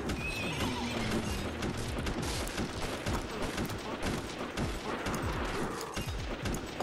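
A unicorn neighs in the Radioactive Teddy Bear Zombies game, a whinny over clip-clopping hooves and rapid gunfire bursts in a busy, continuous action mix.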